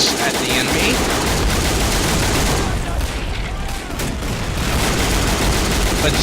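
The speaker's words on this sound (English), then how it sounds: "those artillery guns over here. They're firing 105s at the enemy." Heavy, continuous battle fire from 105 mm artillery guns in Men of War: Assault Squad 2, loud rolling barrages and overlapping gunfire blending into a dense, roaring wall of explosions without pause.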